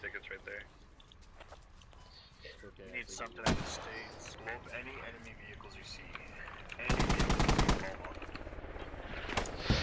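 Heavy video-game gunfire from a squad-based infantry battle, with rolling artillery-like booms and bursts of machine-gun fire, growing louder and denser toward the end as a voice talks over it.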